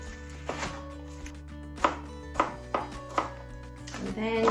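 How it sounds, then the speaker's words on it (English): Knife chopping washed spring onions on a board, several distinct sharp cuts in an irregular rhythm, close and clear, quickening into rapid chopping at the end. "And just cut these up fairly small."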